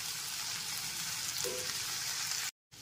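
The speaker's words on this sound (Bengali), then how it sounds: "গ্যাসের ফ্লেমটা লো টু মিডিয়ামে রেখে মশলাটাকে খুব ভালো করে কষিয়ে নেব" Spice paste with salt, turmeric and Kashmiri chilli powder sizzles steadily in a pan over a low-to-medium gas flame for lote fish jhuri, a soft continuous hiss that cuts off abruptly near the end.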